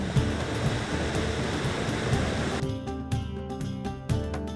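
Steady broadband rush of a waterfall on Scotland's West Highland Way fills the clip, continuous and fairly loud, with the roar thinning partway through as higher tones and brief knocks appear.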